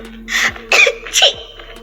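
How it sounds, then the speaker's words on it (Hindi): A woman sneezing from basement dust, a quick series of three or four breathy sneezes and sniffs, close and fairly loud. "बीच बीच में उसे छींक भी आ रही थी"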